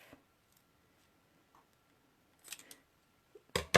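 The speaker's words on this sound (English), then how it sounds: "I'm going to cut this loop in half" Paper-crafting scissors snip through a ribbon loop at a card-stamping desk, a few faint, short cuts and clicks in near silence, ending with a louder close crunch.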